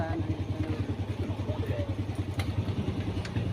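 Motorcycle engines idle in a crowded inner neighborhood street, a close, pulsing, low chug with quick regular beats and faint clatter. Voices can be heard in the background.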